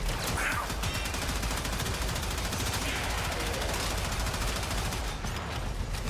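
Rapid gunfire from a Gorgon rifle, a heavy automatic weapon in the video game Warframe, rattles in a dense, continuous stream of shots over the whole stretch, loud and close, with game noise mixed in.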